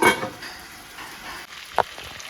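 Chicken frying in oil in a covered pan, a steady soft sizzle with a brief clatter of the lid or utensil near the end.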